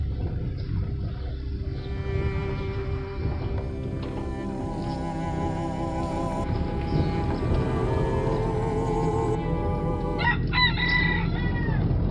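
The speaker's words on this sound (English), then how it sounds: "Someone has a rooster to my left." A rooster crows repeatedly nearby, loud harmonic calls over steady background noise and rumble, heard outdoors along a road during a tour of Puerto Peñasco.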